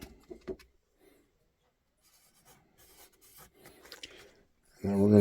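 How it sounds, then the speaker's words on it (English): A pen scratching across a surface and failing to write during a Yamaha Virago barn-find motorcycle repair, heard as a few short rubbing strokes between quiet gaps, with faint muttered talk and a loud thump at the end. "That pen does not want to write."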